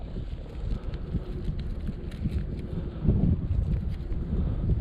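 Steady wind buffeting a microphone outdoors at a drone flying session, a low rumbling roar that swells a little partway through, with no voices.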